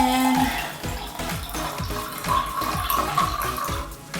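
Drink poured from a bottle into a glass, a near, steady gurgling stream with rhythmic glugs for a few seconds, no talk.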